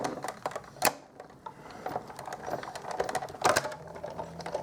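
A hand-cranked die cutting machine rolls through a unicorn card piece, giving a quiet run of close mechanical clicks and grinding ticks with a few sharper snaps.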